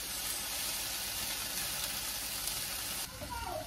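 Italian sausages frying in a skillet: a steady, even sizzle and hiss throughout, dipping slightly toward the end as a faint clink sounds.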